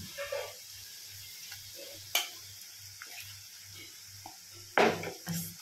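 Marinated chicken hits browned fried onions in a pan, giving a steady sizzle with a regular pulsing rhythm, interrupted by a few sharp clanks and stirring scrapes of a utensil against the pot.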